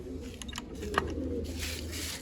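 Large pigeons coo softly and intermittently at a distance, the calls faint and partly lost in steady background noise.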